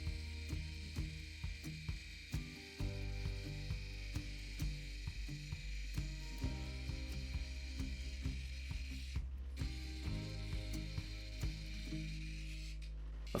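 An opal held against a 600 grit lapidary wheel, a quiet steady grinding hum with a low motor drone and soft rhythmic rubbing scrapes, close and alone with no talk.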